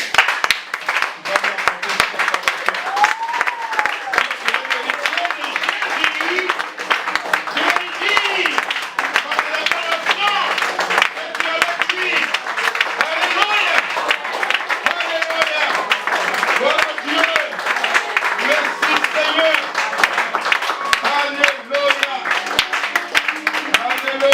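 A church congregation applauds in steady, dense clapping that runs throughout, mixed with voices calling out and singing over the claps.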